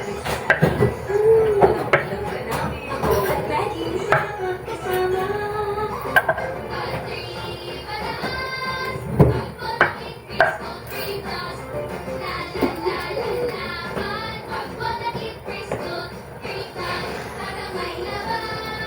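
Garlic and onion are chopped on a board in a home kitchen while cooking corned beef, giving irregular close knife knocks and clatters of utensils against a busy, cluttered background.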